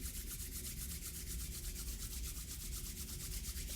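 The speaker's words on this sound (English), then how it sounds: "Noticing the sound of the palms together like that." Hands rubbing palms together in a steady, continuous rhythmic swish, close and fairly loud, with no talking.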